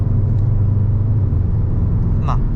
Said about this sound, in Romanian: Are retrograda 2 trepte, că am accelerat mai tare.